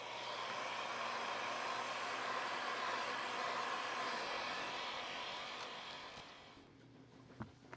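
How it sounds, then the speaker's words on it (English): Heat gun or hot-air tool blowing steadily to warm a Motorola One Action phone for screen repair, a continuous quiet whooshing whine that fades out near the end, followed by a small click. "I'm going to heat this up a little more"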